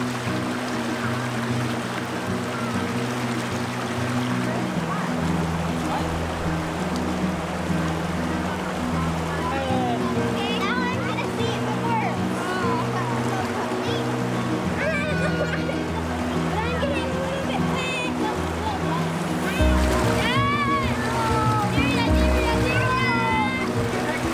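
Loud, steady rush of river water flowing and splashing in Zion National Park, a continuous broadband wash throughout, with children's voices and talk heard over it.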